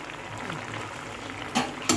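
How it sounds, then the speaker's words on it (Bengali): A fish curry with snake gourd bubbles and simmers in a pan, a gentle continuous sizzle with two sharp clinks of utensil against metal near the end. "এবার এটার মধ্যে মাছটা দেবো, মাছটা দেওয়ার পরে একটু ফুটে উঠবে, নামিয়ে দেবো।"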